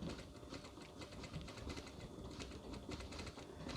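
A sewing machine stitches a piped curtain tie-back close along the buckram edge, giving a continuous fast whirring hum with steady mechanical chatter, quiet and unbroken, with no talking.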